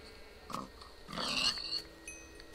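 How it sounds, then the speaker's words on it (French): A pig in the Minecraft video game gives short snuffling grunts, a brief oink followed by a longer one, fairly quiet and unaccompanied. "Un cochon."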